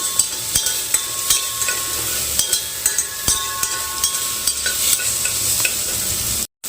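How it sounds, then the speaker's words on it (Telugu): Vegetables fry in a pan with turmeric and chili for a baby-food khichdi, a steady close sizzle broken by regular clicks and scrapes of a spoon stirring against the pan. "కొంచెం ఇలా ఫ్రై అవ్వాలి."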